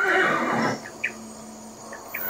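A horse gives a loud, close neigh, a quavering whinny in the first second, followed by short high chirps of insects in a quiet night setting.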